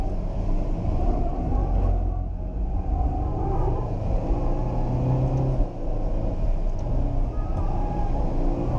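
Ferrari GTC4 Lusso T with its V8 engine, a continuous deep rumbling roar heard from inside the moving car, steady and fairly loud throughout.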